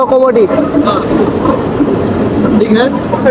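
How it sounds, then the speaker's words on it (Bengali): A broad-gauge commuter train on the Benapole–Mongla line runs at about 70–80 km/h, a loud, continuous rumble and rattle of wheels on track, with faint voices mixed in. "বিশাল গতি নিয়ে যাচ্ছে যেহেতু ব্রডগেজ ট্রেন"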